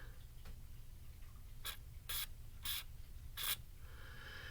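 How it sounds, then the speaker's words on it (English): WD-40 spray lubricant in short bursts at the back of a seized bathroom fan motor: four quick, close hissing squirts in an irregular rhythm over a faint, quiet background. "I've got my WD-40 spray lubricant. I'm going to go have just a tiny bit in the back of the motor here."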